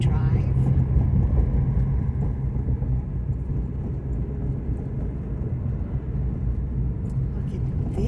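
Steady low engine rumble and road noise from inside a car driving on a quiet road, continuous and even throughout.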